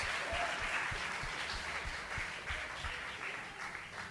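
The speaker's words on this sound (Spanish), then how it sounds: "Da un aplauso de gloria al Señor." A church congregation applauding during a Spanish-language sermon, a sustained wash of many hands clapping at moderate distance, steady for about four seconds with faint low thumps underneath.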